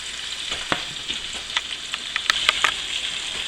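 Sausages sizzling in a cast iron pan, a continuous bright crackle and spatter with scattered sharper pops and occasional stirring scrapes, fairly quiet and close, no voices.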